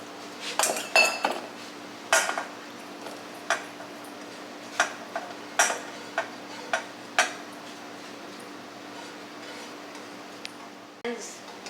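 Masflex pans and utensils handled while cooking in a kitchen, a series of sharp metallic clinks and taps at irregular intervals over a quiet background, near and fairly loud, with no talk.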